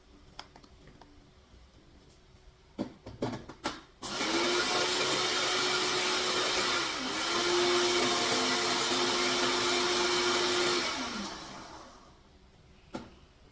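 An electric spice grinder pulverises white peppercorns, coriander seeds and chopped lemongrass, a loud steady motor whine running about seven seconds after a few clicks and taps, then winding down to quiet.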